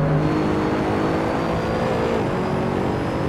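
A race car engine in Assetto Corsa online racing drones loud and close, holding a steady high rev with a brief pitch dip as the driver brakes for a corner.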